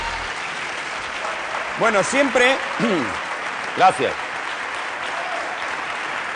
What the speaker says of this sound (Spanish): Creo que es la ovación más prolongada que se ha dado jamás en la historia de este programa